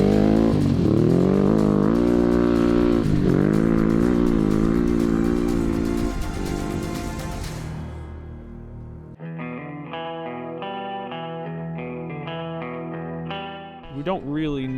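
A Ducati DesertX motorcycle in a NORRA Mexican 1000 rally roars loudly at high revs, then the engine note drops to a steadier, lower-pitched idle-like drone, heard close and alone.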